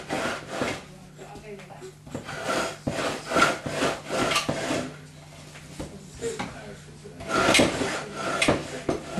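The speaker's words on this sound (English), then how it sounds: "You've got all of these toys and you play with a drawer." A small child plays with a wooden furniture drawer, which gives repeated scraping, rubbing and knocking sounds in uneven bursts. The sounds are close and moderately loud, with a low steady hum underneath.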